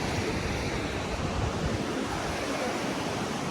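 Ocean surf at a dog beach in Morro Bay, heard as a steady, loud wash of waves with wind buffeting the microphone, no voices.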